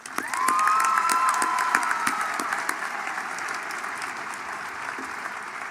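A crowd at a high school graduation ceremony applauds student speakers, loud sustained clapping mixed with whoops and cheers that slowly fades toward the end.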